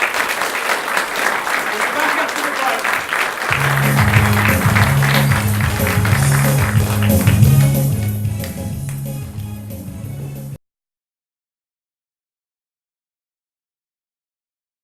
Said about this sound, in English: Can we have a big, big round of applause